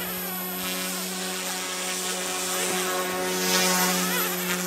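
Close, steady high-pitched whine and buzz of a small OMPHobby M2 remote-control helicopter hovering, with a constant rotor drone that swells slightly; the tail rotor is loudest.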